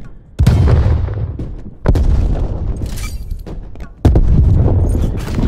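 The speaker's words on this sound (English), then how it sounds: "Throwing grenade." Grenade blasts in Call of Duty: Black Ops Cold War multiplayer, three loud booming explosions a second or two apart, each with a broad rumbling decay, and a faint voice callout under them.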